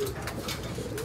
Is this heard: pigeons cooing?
yes